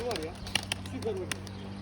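Young flying pigeons of a Turkish tumbler breed give soft, brief chirps and coos in a loft, faint over a low background hum with a few short clicks.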